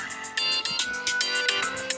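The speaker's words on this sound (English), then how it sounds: "I'm getting a phone call" Loud electronic phone ringtone playing a bright repeating melody, continuous and close for about two seconds, with no talking over it.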